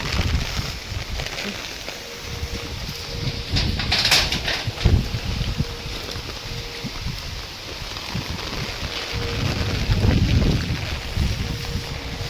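Strong wind blows outdoors on a dark, stormy day before rain, buffeting the microphone with a continuous rumbling roar that swells in gusts, with no voices.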